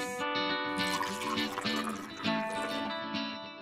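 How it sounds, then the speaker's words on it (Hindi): Water is poured into mustard powder and jaggery for a Konkan recipe, a short close splashing and trickling of liquid over a steady tonal background. "और फिर पानी जाएगा इसमें"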